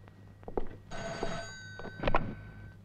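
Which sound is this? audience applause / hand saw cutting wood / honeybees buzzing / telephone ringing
telephone ringing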